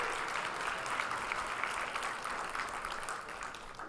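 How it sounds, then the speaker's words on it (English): An audience at a conference session held at an MGM venue applauds steadily, a dense, even clatter of many hands that carries on at full strength for the whole stretch with no voices over it. "Let's also give a round of applause to our incredible partners at Encore, the entire MGM staff."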